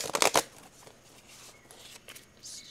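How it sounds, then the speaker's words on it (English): Tarot cards are shuffled in a quick, close burst of papery riffling at the start, then only faint, sparse card rustles over a quiet background. "we're going to go ahead and shuffle these cards now to you"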